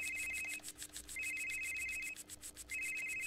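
A cell phone rings in the horror video game Someday You'll Return, giving three repeated bursts of electronic tone separated by short gaps over a quiet, tense background.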